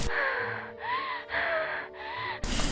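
Heavy, breathy gasping in a few drawn-out bursts, each carrying a strained whining tone, ending in a sudden rush of noise.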